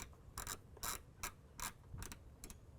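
Ratcheting clicks come in short bursts, five or six quick rounds, as a ground wire connection is tightened on a fuse box while fitting lights to a 4Runner. They are faint and close, with no talk.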